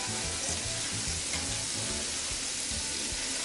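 Pancetta frying in a pan gives a steady, close sizzle and crackle that holds at an even level throughout, with no voices over it.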